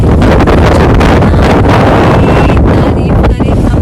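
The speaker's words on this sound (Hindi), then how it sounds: "इतना हवा चल रहा है" Strong evening wind blowing outdoors, heard as a loud, continuous roar and buffeting against the microphone, steady and close throughout with no voices.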